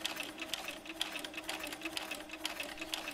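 Sewing machine stitching down the side of a clear vinyl pouch, its rapid steady needle rhythm running continuously and fairly close, with no talk over it.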